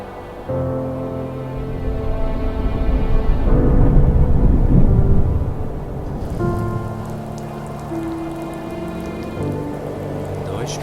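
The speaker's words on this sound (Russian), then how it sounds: "Дождь пошел." Rain falling in the video game The First Tree, a steady hiss of rainfall over a soft, sustained musical score, swelling louder for a few seconds before settling back under the music.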